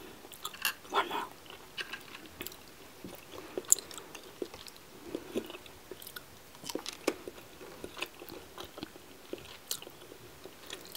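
Bean Boozled jelly beans, including coconut and baby-wipe flavors, being chewed close to the mic: soft, sticky, irregular mastication with small crunches and wet squishes, continuous for about eleven seconds with no talking.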